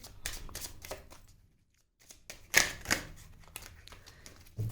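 Tarot cards being drawn and handled from a deck during a reading, giving dry papery shuffles and riffling clicks, several soft bursts with a short silent gap and two sharper snaps midway, close and alone.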